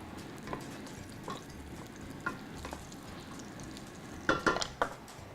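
Oil sizzles steadily in a pan frying aubergine while a utensil scrapes and clinks against it a few times, louder near the end.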